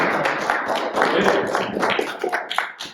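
Hands clap in a quick irregular burst, crisp and close, spread across a couple of seconds, with scattered audience clapping from a school talk.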